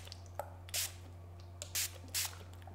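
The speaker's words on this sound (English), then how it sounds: "sometimes what I'll do is I'll take a fine mist spray" Three short, soft hisses of a fine mist spray bottle misting a watercolor painting, spaced about a second apart, close by in a quiet room with a low electrical hum.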